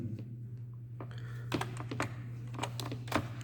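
Someone types on a computer keyboard while writing basic HTML: a quiet, irregular run of close key clicks, some in quick bursts, over a low steady electrical hum.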